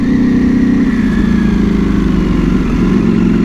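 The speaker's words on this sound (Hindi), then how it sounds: "I am coming back with a bang and this is the bang, the exhaust on this beautiful beast" A Ducati Panigale V4S motorcycle fitted with an Akrapovic full exhaust system idles close by, giving a loud, steady, throbbing engine rumble that holds without pause.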